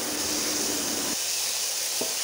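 Chopped ingredients fry in a pan for a Bengali pumpkin leaf bharta, giving a steady hissing sizzle. A soft clink of stirring comes partway through and another light tap follows near the end.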